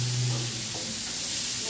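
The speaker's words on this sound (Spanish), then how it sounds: "Voy a poner otra piecita de pollo a freír aquí." A piece of chicken fries in a pan for red chicken enchiladas, giving a steady, close sizzle with faint crackles and a brief low tone at the start.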